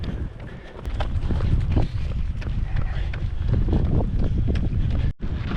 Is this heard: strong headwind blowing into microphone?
yes